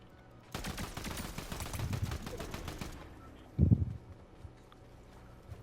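A burst of rapid automatic gunfire rattles during a Fortnite ambush, followed by a single heavier blast and quieter game ambience afterward, with no talk.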